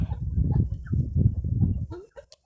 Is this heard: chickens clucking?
yes